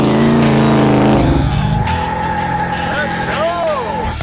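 A rare Porsche with a 1,000-horsepower engine revs loudly and close by, its roar rising and falling over several seconds while people talk over it.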